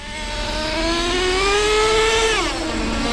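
Nitro engine of a Traxxas T-Maxx RC truck fitted with an OS 21 motor, a loud, close buzzing whine that rises steadily in pitch as it accelerates, then drops sharply as the throttle is released, heard alone.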